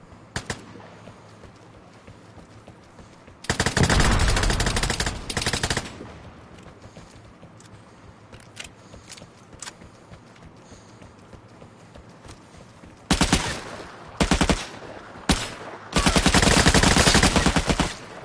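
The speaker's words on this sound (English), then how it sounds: "Is he shooting through the wall?" Bursts of rapid video-game gunfire in an online shooter match, two loud sustained volleys separated by quieter ambient stretches with scattered single shots, the second volley breaking into several short bursts.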